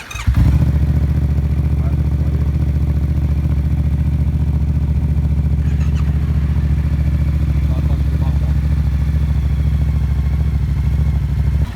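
A Yamaha Tracer 700 motorcycle engine rumbles at a steady, loud idle right after starting, a constant low throb close by.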